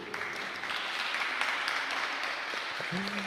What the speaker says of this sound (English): So please, I would like you to applaud the Stretching Sensi School.